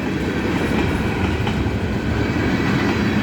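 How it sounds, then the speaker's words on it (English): A short freight train rolls past at McDaniel Road, a loud, steady rumble of wheels on rail with faint clickety-clack throughout. "It's a surprisingly small train that are normally the ones that are longer."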